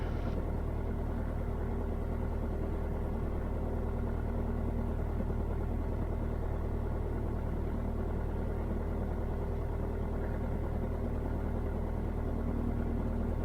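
Cessna light aircraft engine heard from inside the cockpit on final approach to runway 30: a continuous, steady droning hum that stays close and loud throughout, with no talking.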